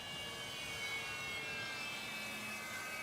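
A radio-controlled model airplane flying overhead, its motor a steady, fairly faint whine holding a constant pitch with layered harmonics throughout.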